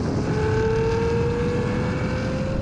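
A Nissan GTR and a Ferrari accelerate side by side in a rolling race, giving a steady loud engine drone with a rising tonal whine heard close from inside the car.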